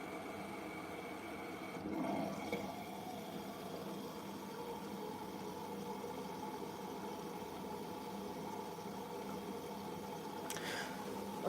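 Beko DuoSpray washing machine filling with water, a faint steady hum and low trickling hiss with tonal machine drone, brief clunks near the start and end, no voices.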